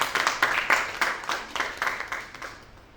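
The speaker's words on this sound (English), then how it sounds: "Can we please give him a round of applause?" An audience applauds at a product management talk, a short burst of clapping that fades away over a few seconds.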